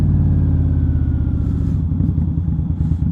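An Indian Scout Bobber motorcycle with a Vance and Hines exhaust rides in, a loud, steady, deep engine rumble held throughout.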